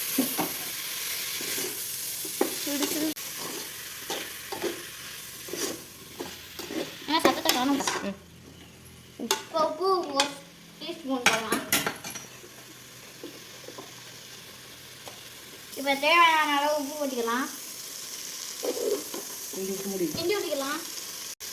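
Tomatoes are sautéed and stirred in a pan for quick tomato rice, intermittent spoon scrapes and clatter over a faint sizzle, while a voice talks in short bursts between them.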